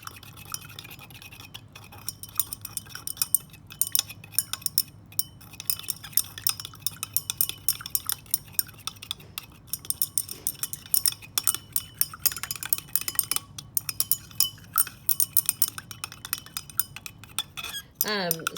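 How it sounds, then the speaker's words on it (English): A stir rod swirls salt through liquid in a lab glass, tapping and clinking against the sides in quick irregular ticks over a quiet background, continuing for many seconds. "Stir with the stir rod until they dissolve."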